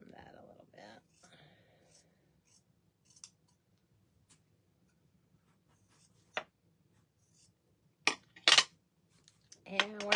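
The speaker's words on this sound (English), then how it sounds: "We'll trim that a little" Scissors snip fabric while rustic Valentine hearts are being crafted. The cuts come as a few sparse, crisp snips that grow closer together toward the end, over near silence with faint soft speech.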